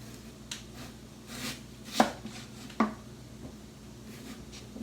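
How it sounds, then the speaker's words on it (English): A knife slices rutabaga into quarter-inch slices on a cutting board, with a few soft, spaced cuts and two sharper thuds against quiet background, close up and without talk. "I'm going to lay it flat like this, and then I'm going to cut about 1/4 inch slices"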